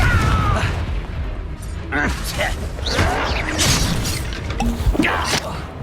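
Spell blasts in the game Hogwarts Legacy: repeated bursts of explosive booms and crackling impacts, loud and close, with shouted voices between them.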